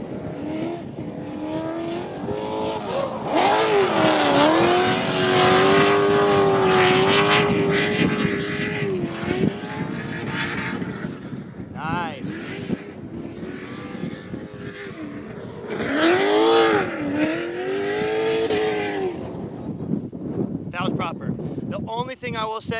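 A drift race car lapping a track during pre-season testing, its engine roaring and wailing in long rising and falling sweeps, loud and fairly close with wind buffeting.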